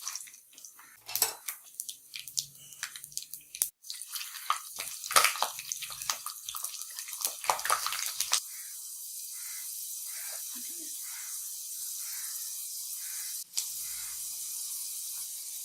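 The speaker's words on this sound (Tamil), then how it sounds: "இப்போ பூண்டு நல்லா எண்ணெயில் வதங்கிருச்சு" Garlic fries in oil inside a clay pot for a mango fish curry. Scattered scraping and clattering bursts come first, then a steady, moderate sizzling hiss carries on alone.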